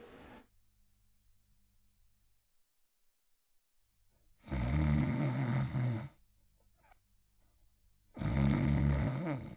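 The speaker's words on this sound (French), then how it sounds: "tandis que le monstre ronflait comme 10 soufflets de forgeron" A monster's loud snoring as a story sound effect, likened to ten blacksmith's bellows: two long, heavy snores separated by a quiet pause.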